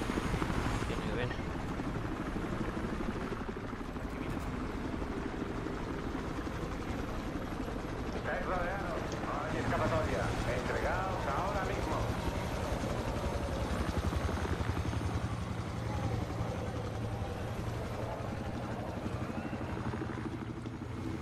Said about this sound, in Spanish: aquí estoy a cubierto del helicóptero